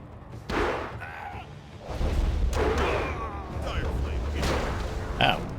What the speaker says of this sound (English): Time to just, like, shoot this guy to death.